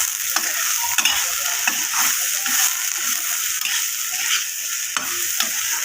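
Soybean chunks and turmeric fry in hot oil with a continuous close sizzle, broken by repeated scraping and stirring strokes in the pan.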